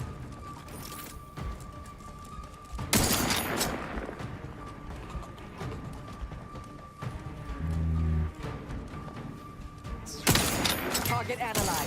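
Gunfire in the video game The Outer Worlds 2, with loud bursts of shots breaking through a steady electronic hum, some heavy volleys and scattered single reports, while a voice speaks in between.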